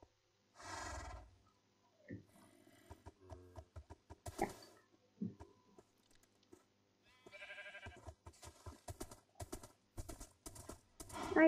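Minecraft horse hooves clip-clopping on blocks in the video game, quick irregular runs of hoofbeats close up, with horse whinnies and sheep or goat bleats mixed in between.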